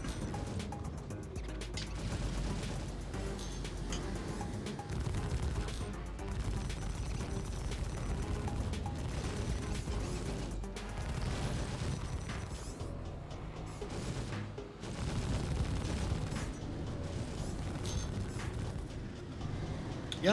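Ship cannons on an Aurora MR space fighter fire at a Cutlass in a space combat game, a dense, continuous mechanical barrage that rattles on for about twenty seconds with no pauses.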